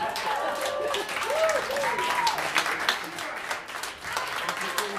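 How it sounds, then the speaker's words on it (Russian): Audience applause fills a jazz club at an album presentation: sustained, close clapping with some cheering, and a voice speaking over it. "Еще раз аплодисменты!"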